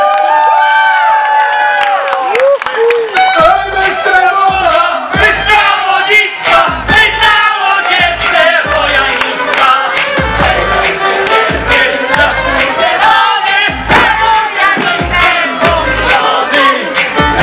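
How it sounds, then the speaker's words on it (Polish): A large outdoor crowd at a folk concert in Łańcut applauds and cheers loudly and steadily, with whoops and shouts mixed in. "zróbcie jeszcze raz duże brawa"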